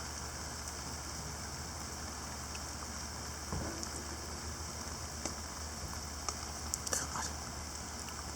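Misty rain falls steadily during wet, stormy June weather, a soft continuous hiss with a few faint scattered taps and no voices.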